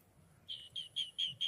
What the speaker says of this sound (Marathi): पक्षी या ठिकाणी मोठ्या प्रमाणावर येतात.